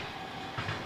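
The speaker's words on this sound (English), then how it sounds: "For those wondering, that's a train in the back." A train rumbles past at a distance, a faint, steady rolling drone with a slight rhythmic clatter in the background.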